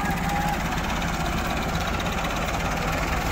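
A Massey Ferguson 385 tractor strains to pull a heavily loaded sugarcane trolley outdoors, its engine a steady, continuous low drone throughout.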